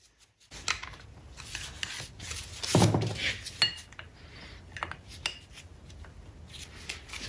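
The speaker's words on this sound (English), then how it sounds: "let's see if I can scrape some of this out so I can get that hex key to seat in there" Metal scraping rust-crusted crud out of the bolt holes of a four-jaw lathe chuck mounting plate, close scratchy rasps and light clinks in short irregular bursts, with one longer harsh scrape near the middle.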